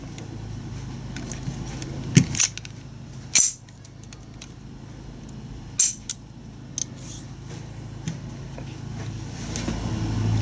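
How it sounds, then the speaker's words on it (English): The trigger of an SW22 Victory pistol is dry-fired after installation, giving several sharp metallic clicks spaced a second or two apart over a low background hum. "Now that we have the gun back together, we can do a dry fire"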